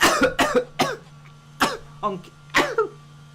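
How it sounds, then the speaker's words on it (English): A man recovering from COVID coughs in several rough, hacking bursts, three quick ones close together and then a few more spaced apart, loud and close over a steady low hum, with no talk between them. "He still got a cough as he was trying to say that."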